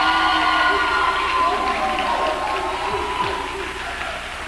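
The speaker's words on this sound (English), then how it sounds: "let's applaud for our audience" A studio audience at a 1995 TV dance show applauds and cheers in a steady, roaring wash that slowly fades, with music and voices underneath.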